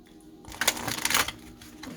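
A deck of Crystal Power Tarot cards is shuffled close up, a quick burst of riffling and flapping card noise that rises and then fades, with no talking.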